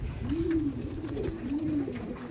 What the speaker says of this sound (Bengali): এই দেখুন, এই একটা পায়রা